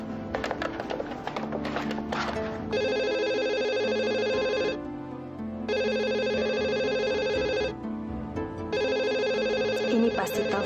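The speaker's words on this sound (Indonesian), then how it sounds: "Ini pasti telepon dari Adrian." A telephone bell rings in three long, loud bursts separated by short pauses, clear and close with no talking.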